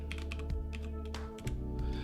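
Fingers type on a computer keyboard nearby, with a handful of quiet, irregular key clicks over a steady low hum.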